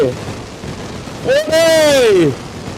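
In the PUBG Mobile video game, a firecracker goes off as a loud whistling, sweeping burst followed by a crackling pop, close and dominant over faint background noise.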